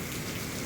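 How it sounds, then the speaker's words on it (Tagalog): Heavy rain pouring down steadily on a surface, a dense, continuous hiss close by with no pauses and no voices. "ang lakas ng ulan"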